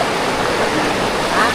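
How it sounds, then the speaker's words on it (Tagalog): River water flowing steadily at close range, a dense continuous rush with no clear breaks over the short stretch. "Dito namin sa ilog ngayon."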